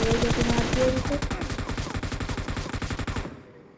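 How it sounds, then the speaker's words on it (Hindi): An M249 machine gun in the PUBG video game fires loud, rapid, sustained automatic bursts for about three seconds, then falls silent. No one speaks. "मारती किससे M249 से, मतलब चलाने लग जाए तो रुके ना"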